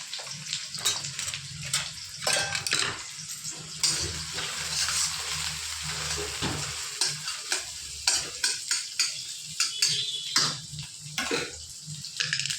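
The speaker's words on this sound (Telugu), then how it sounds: "కడాయిలో ఆయిల్ కొంచెం ఫ్రై అయ్యాక మస్టర్డ్ ఆయిల్ ఇప్పుడు ఆనియన్స్ వేద్దాం" Onions frying in mustard oil in a kadai for a mixed vegetable fry, with a continuous bright sizzle broken by scraping stirs and clinks throughout, close and steady with no talking.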